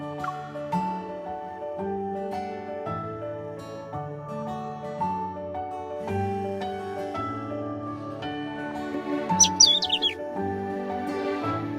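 A bird chirps briefly in a video game, a quick bright trill that rises over gentle melodic background music, with no talking.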